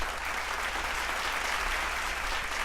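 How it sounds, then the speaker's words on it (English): A steady wash of applause plays on its own at moderate level, dense and even for a few seconds, dropped into a live call-in discussion stream. "We'll get 2 applauses in on that one"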